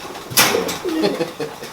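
Tippler pigeons coo nearby in low, soft throaty calls, preceded by a sharp flutter or burst of noise, with several cooing phrases following in quick succession.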